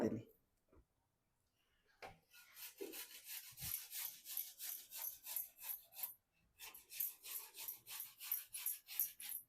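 Cucumber (tavsa) grated by hand on a grater for Malvani-style vade, rhythmic rasping strokes in quick repeated bursts with a brief pause midway, close and clear.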